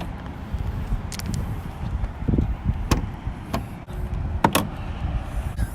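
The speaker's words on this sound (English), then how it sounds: "You gotta go inside and pop the hood, then push these down." Opening the hood of a 2020 Shelby GT500 with hood pins, a few sharp metallic clicks and thumps over a low outdoor rumble and wind, close by.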